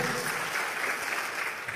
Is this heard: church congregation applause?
yes